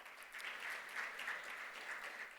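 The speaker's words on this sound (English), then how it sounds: "A big round of applause." A brief burst of audience applause at a business summit, steady hand clapping from a crowd in a hall with no speech over it.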